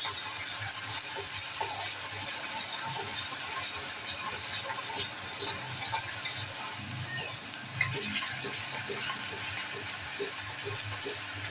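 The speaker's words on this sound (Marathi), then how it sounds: "आता आपण बारीक चिरलेला कांदा घालूया. कांदा फ्राय करून घेऊया." Finely chopped onion fries in a pan for Maharashtrian black chicken curry, a soft steady sizzle with faint scattered crackles and light stirring, fairly quiet and without speech.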